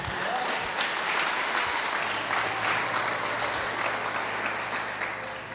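A church congregation at an evening service breaks into sustained, dense applause, even and enthusiastic throughout several seconds with no one speaking over it.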